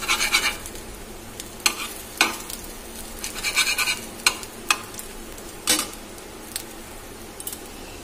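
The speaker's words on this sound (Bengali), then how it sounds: "অর্জুন আর অর্জুনের বাবার জন্য ডিমের অমলেট করলাম।" Egg omelette cooking in a pan, with scattered spatula scrapes and taps against the pan over a soft background sizzle, in sharp irregular bursts.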